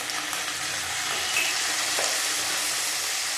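Cumin seeds sizzling in hot oil, a dense, loud, continuous crackling hiss with small pops, steady throughout with no voices.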